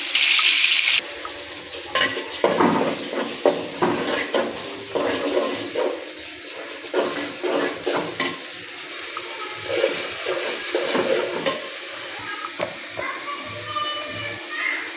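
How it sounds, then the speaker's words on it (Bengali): Vegetables cooking in a pan of spiced oil after fish has been fried, giving a continuous sizzle and frying hiss with stirring scrapes throughout, fairly close and with no talking. "এখন আমি সবজি বসাই দিব।"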